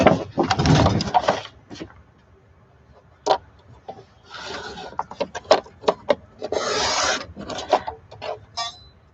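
A paper trimmer slicing paper for a lapbook, with scraping blade passes and sliding bursts broken by sharp clicks and taps, loud and close.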